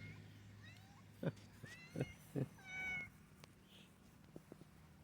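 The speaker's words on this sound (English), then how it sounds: "guess who's got to get in the picture of everything? Miss Kitty." A cat meows several times in short, close calls, followed by a longer drawn-out meow, with faint background noise.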